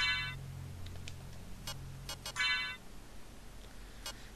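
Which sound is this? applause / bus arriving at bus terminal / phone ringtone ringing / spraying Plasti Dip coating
phone ringtone ringing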